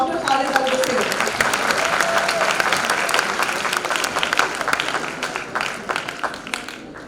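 Audience at a national readers conference in Pakistan applauds a speaker being introduced, a loud sustained wash of many clapping hands with crowd murmur and a few voices underneath, gradually thinning out near the end.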